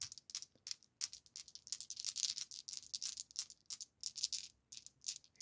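Hard plastic gaming dice rattling and clicking together in a hand, a rapid irregular clatter of bright close taps in bursts, fairly quiet, with no voices.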